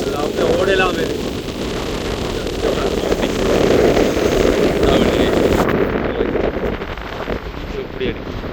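Strong storm wind blowing along the coast in Jaffna, roaring and buffeting the microphone in loud continuous gusts, with surf in the background and a voice talking over it.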